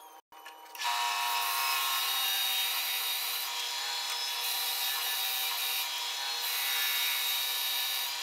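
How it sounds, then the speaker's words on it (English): A bandsaw cuts out a wooden key holder piece, giving a steady loud whine and rasp of the blade through wood that runs unbroken after a brief start, with no voices. "I'm gonna go to the bandsaw, and I'm gonna cut this out."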